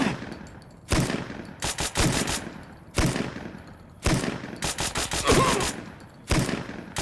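Gunfire in the modded Fallout: New Vegas, including shotguns: repeated bursts of rapid shots in clusters separated by brief pauses, loud and close, with no talking.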